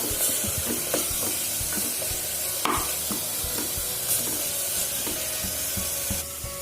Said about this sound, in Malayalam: ഇത് നന്നായിട്ടൊന്ന് മിക്സ് ചെയ്ത് കൊടുക്കുക